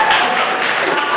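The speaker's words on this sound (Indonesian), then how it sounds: "Tepuk tangan buat Kevin." Brief classroom applause for a student, dense scattered clapping filling the whole short stretch at steady loudness, with some voices mixed in.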